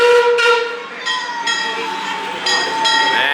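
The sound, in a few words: Six Flags Fiesta Texas theme park train arriving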